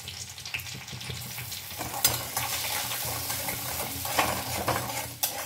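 Cumin seeds and Everest asafoetida sizzle and crackle in hot ghee with green chillies, a loud, steady frying hiss with occasional spoon scrapes and clinks against the pan.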